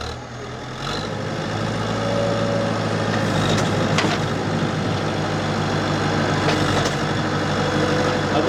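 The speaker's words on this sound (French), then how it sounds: "il va allumer le tracteur" Tractor engine starting up and settling into a steady, loud, low idle rumble, with a faint mechanical whine and a couple of brief clanks over the drone; no talking.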